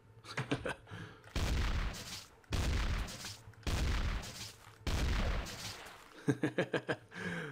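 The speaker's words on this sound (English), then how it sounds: "Now this is obviously the shotgun." Shotgun blasts from a modded video game weapon, four heavy booming shots evenly spaced, each followed by a short rumbling tail, with quick mechanical clicks of pumping or reloading in between.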